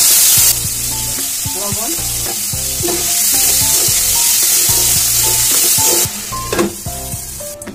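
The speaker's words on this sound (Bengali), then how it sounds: "আলু আর পেঁপে এটাকে একটু ভেজে নেব" Potato and papaya fry in a pan with a loud, steady sizzle and crackle, broken by scraping stirs and clinks of a utensil; a brief word is spoken near the end.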